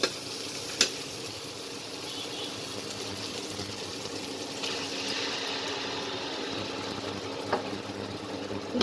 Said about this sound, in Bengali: সব মশলাগুলো দিয়ে দিলাম, দিয়ে একটু ভেজে নিচ্ছি।